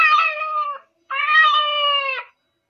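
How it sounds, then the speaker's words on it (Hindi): Two drawn-out cat meows play from a Smart Star Talking Ted children's toy, clear and close, separated by a short pause, with no other sound. "बिल्ली ऐसे आवाज निकालती है"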